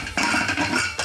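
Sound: putting the lid on a pressure cooker pot

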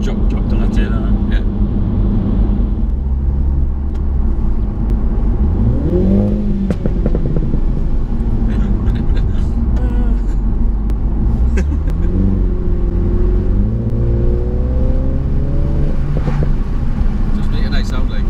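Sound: Mini F56 JCW car engine revving, standard exhaust

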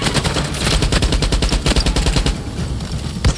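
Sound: gunfire from a video game, Far Cry

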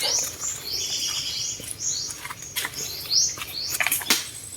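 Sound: birds chirping

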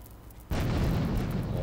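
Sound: grenade explosion in video game GTA III

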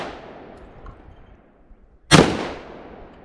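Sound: gunshots at an outdoor shooting range

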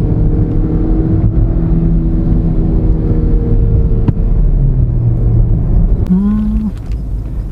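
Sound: Hyundai Grand i10 Nios engine revving in second gear

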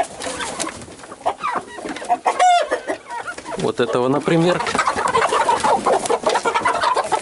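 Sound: roosters clucking

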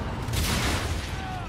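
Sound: explosion, video game

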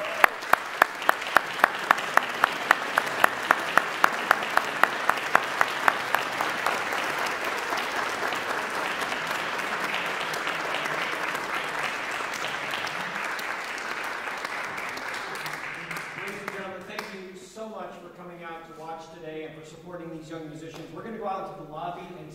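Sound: audience applause for competition winner

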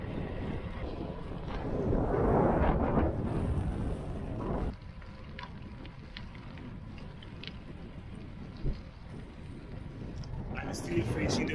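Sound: wind while riding gravel bike

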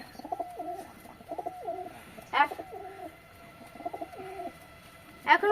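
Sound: pigeon cooing

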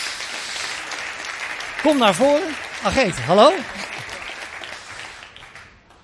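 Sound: audience applause

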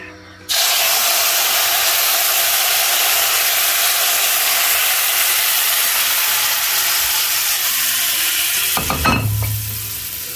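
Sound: sugar syrup poured into hot roasted semolina, hissing

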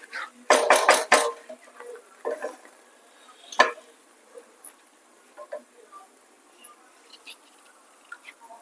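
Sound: macaroni pasta added to red sauce gravy in pan

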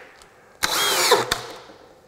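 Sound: DEWALT 20V drill running on a 28-volt AC adapter

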